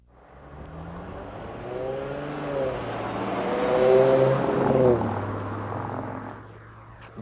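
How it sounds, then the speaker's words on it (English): Car tires running over an edge-line rumble strip beside a roadway, a loud droning buzz that rises and falls in pitch as the vehicle passes close, swelling in the middle and fading away. "The sound of a car crossing the edge line of a roadway and encountering a rumble strip."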